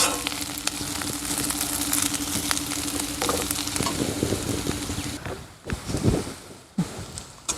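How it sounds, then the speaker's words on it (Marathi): Chopped onion sizzles and fries steadily in a pan while being sautéed toward brown for masvadi, with occasional stirring scrapes; the sizzle thins out near the end, leaving a few louder clatters and knocks. "कांदा आता हा आपला परतत आलेला आहे."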